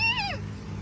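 A domestic cat gives a single short meow that slides downward in pitch, heard close over a steady low background hum.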